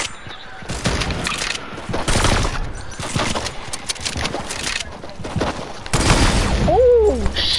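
Rapid gunfire bursts from a PS4 shooter video game, loud and sustained with repeated volleys and a few pauses, mixed with game sounds throughout.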